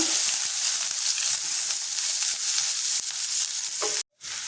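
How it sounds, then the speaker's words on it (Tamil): Chopped large onion sizzling as it fries in hot oil, a steady close crackle that runs without voices, broken briefly by a short gap near the end. "எண்ணெய் சூடாயிடுச்சு வெங்காயம் பொடியாக நறுக்கி வச்சுருக்கேன் ஒரு பெரிய சைஸ் வெங்காயம் அதை சேர்த்துக்கிறேன்"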